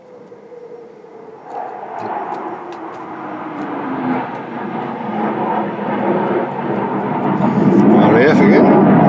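A RAF military jet passes low over the Lake District, a rumbling roar that swells steadily louder toward the end while people talk over it.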